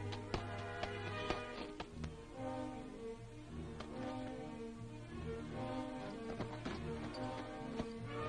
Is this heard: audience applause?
no